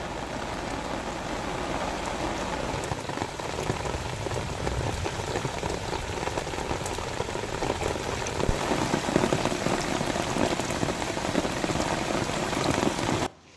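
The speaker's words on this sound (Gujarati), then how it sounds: "ધોધમાર વરસાદ શરૂ થયો હોવાના સમાચાર છે।" Heavy monsoon rain pours down in Dwarka, Gujarat, a dense, steady roar of drops hitting surfaces that holds loud and unbroken for over thirteen seconds before cutting off abruptly.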